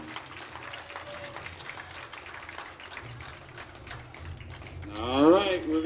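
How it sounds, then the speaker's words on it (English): A crowd at a PIAA District 10 boys soccer match, Corry Beavers versus Saegertown Panthers, claps for five Saegertown seniors. The applause is distant and fairly soft, and a voice comes in near the end. "We'd like to give a big round of applause to them as well."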